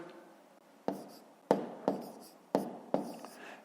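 Pen strokes on paper while working a long-division problem for fifth-grade maths, heard as six short, close scratchy taps, spaced about half a second apart, in a quiet room.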